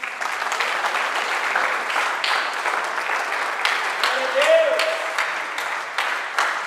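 Congregation at a church service clapping together in a steady, dense wash of applause, with some speech mixed in over it.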